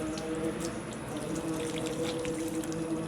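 Water poured steadily over beagle puppies during a bath, a continuous splashing pour running unbroken and fairly close throughout.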